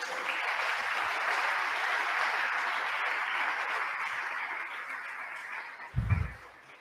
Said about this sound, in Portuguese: Você pode aplaudir a Ele?